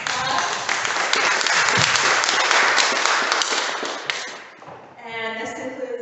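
A seated audience at a city candidate forum in Ithaca breaks into loud, dense applause that holds steady for several seconds, then fades as a voice starts up again.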